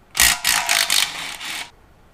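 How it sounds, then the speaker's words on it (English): Bolts being removed from the oil pickup of an LS engine in a BMW E36 swap: a close, loud burst of about five rapid ratchet clicks lasting about a second and a half, then silence. "Pop these bolts off the pickup."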